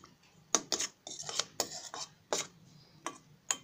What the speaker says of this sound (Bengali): এখন আমি মিষ্টিগুলো উল্টিয়ে দেবো